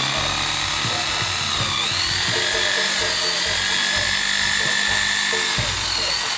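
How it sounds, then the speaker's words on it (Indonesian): Power drill boring into black bamboo while making a Reyog angklung, a loud steady high-pitched whine held throughout, with someone talking over it. "Sekarang tinggal dibor ini pakai ini."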